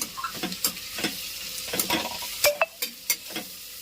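Onions frying in a pan with ginger and green chilli, a steady crackling sizzle broken by sharp scraping stirs and a couple of clinks from the utensil, close and clear with no voices.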